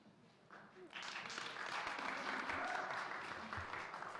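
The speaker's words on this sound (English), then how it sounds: "I'd ask that you refrain from showing applause or dissatisfaction with speakers" An audience at a city commission meeting breaks into applause, a dense wash of clapping that swells after a brief murmur of voices and holds steady, moderately distant in the hall.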